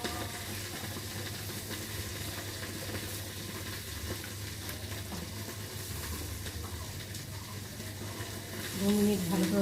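Okra sizzles steadily in a frying pan with a soft, even hiss at moderate distance, and a slight swell of clatter comes near the end.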